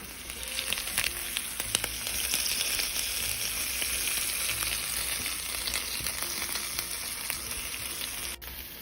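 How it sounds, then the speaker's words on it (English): A cheese taco of cheddar and other melting cheese fries in a pan until crispy, giving a steady, close sizzle throughout with a few faint pops and scrapes. "fold over the other half and let it cook until it gets a little crispy like this one"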